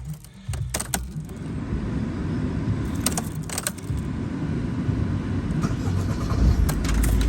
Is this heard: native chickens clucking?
no